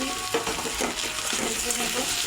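Chopped onion, ginger-garlic paste and chopped tomato fry in a little oil for a tengra fish curry, a dense close sizzle with rhythmic scraping strokes of stirring.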